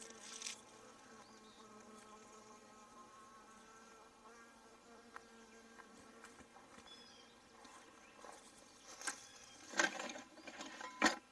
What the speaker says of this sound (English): That loud buzzing you're hearing is a drone.